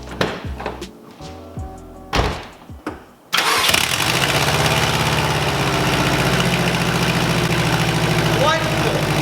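A rebuilt Subaru WRX engine starts for the first time, bursting into a loud, steady, rough idle after a few seconds of hand-held handling noise and voices.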